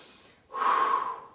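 A single sharp, forceful exhale through the nose during a Pilates abdominal exercise, close and breathy, following a quieter lead-in breath, with no talk.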